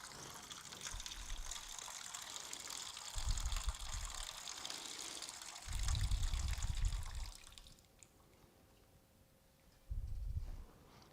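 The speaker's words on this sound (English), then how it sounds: "Here's the sound changes as the water fills." Water fills a basin with a gushing pour whose tone shifts as the level rises. Several louder surges come in bursts before the flow quiets, close and alone with no talking.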